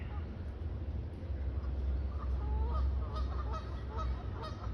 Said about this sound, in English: the ducks and the geese are calling each other saying, move